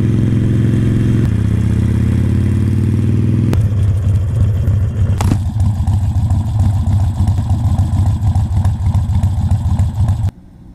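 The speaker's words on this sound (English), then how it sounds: "there was the Harley Sportster 48" A Harley-Davidson Sportster 48 rumbles loud and steady throughout on a test ride, its low engine note shifting through a couple of changes before cutting off abruptly near the end, with no talk over it.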